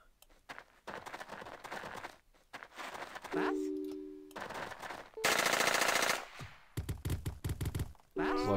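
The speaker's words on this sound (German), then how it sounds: "die schießen jetzt die ganze Zeit auf die toten Zombies" Bursts of automatic gunfire in Jagged Alliance 2 with a zombie mod, loud machine-gun volleys alternating with single shots, interspersed with someone talking in German between the bursts.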